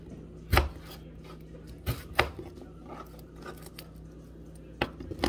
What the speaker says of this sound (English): I just cut off these little sides right here